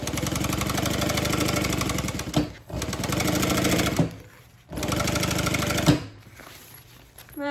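A sewing machine stitches a quarter-inch pocket seam on a handbag, running in three loud bursts of rapid mechanical clatter separated by brief pauses, close up with no talking.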